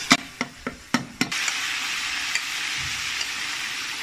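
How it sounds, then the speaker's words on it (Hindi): Tomato paste cooking in a pan for an ojhri curry, a few sharp spoon clanks against the pan at first, then a steady sizzle and frying hiss. "ये टमाटर अब इसमें पक रहे हैं"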